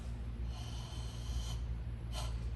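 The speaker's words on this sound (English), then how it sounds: "you can hear her breathing" Karate student's breathing during a Gekisai Dai kata, close and steady with a soft sustained exhale and a sharper forceful breath or snort near the end, no talk.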